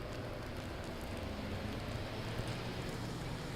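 Steady rain falls around a pedestrian walking along Nicollet Avenue in South Minneapolis, a constant broadband hiss of drops with a low rumble of wind and traffic beneath. It holds an even level throughout, with no one talking.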